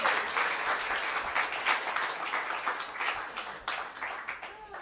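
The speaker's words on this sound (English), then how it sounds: "Give them a round of applause for them." Audience applause right after two guests are introduced at a spiritual gathering, a dense, steady wash of clapping that holds for several seconds and then thins slightly toward the end.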